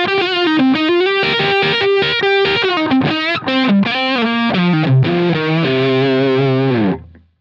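Distorted electric guitar through a compressor on a Line 6 Pod Go plays a melodic riff of sustained and choppy notes, evenly squashed in level, ringing out briefly before stopping.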